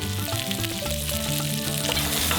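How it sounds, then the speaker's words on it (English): Pak choy sizzling in sesame oil in a hot pan, a steady loud hiss of frying that continues without a break, with the greens being tossed around. "we just toss that around in the pan"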